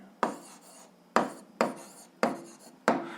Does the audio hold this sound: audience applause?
no